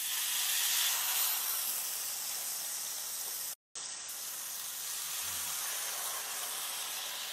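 Kingfish frying in oil on a saj pan gives a steady, close, broadband sizzling hiss that fills the whole stretch, broken only by one very brief dropout midway.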